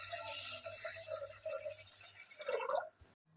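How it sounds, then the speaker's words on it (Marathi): Pigeon pea lentils are being rinsed in water in a kitchen, giving soft dripping and pouring splashes. The sound is quiet and close, with no talking. "डाळ मी स्वच्छ धुवून घेतलेली आहे 2 पाण्याने"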